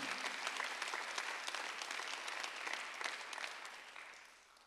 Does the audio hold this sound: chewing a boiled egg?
no